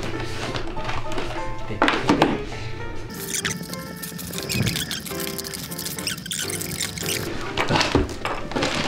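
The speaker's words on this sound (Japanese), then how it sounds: "じゃあ入ったものを一回全部出してみましょう。" Board game boxes pulled one after another out of an Uber Eats delivery bag, giving a steady run of tapping, rustling and sliding cardboard knocks close by, with no talking.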